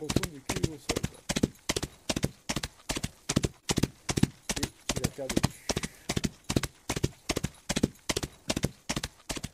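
Horse galloping sound effect in a western-themed tabletop role-playing game, a steady rapid rhythm of hoofbeats throughout, loud and close, with a voice talking over it.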